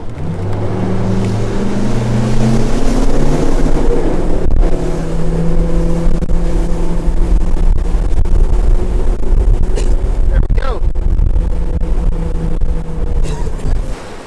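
A bass boat's motor roars steadily at full throttle, its pitch climbing as it accelerates from 0 to 40, with water rushing and wind noise throughout.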